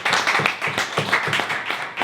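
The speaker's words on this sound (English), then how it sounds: "Round of applause" Audience applause at a social networking event, heard as close, sharp claps in an uneven quick rhythm from a modest group, loud and brief.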